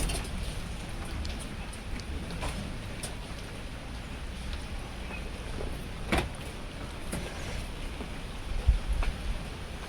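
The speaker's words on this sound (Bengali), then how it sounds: "আর এদিকে বৃষ্টি আছে" Rain falls steadily, a constant soft hiss of drops on surfaces with a few sharper taps, holding at an even level throughout with no voices.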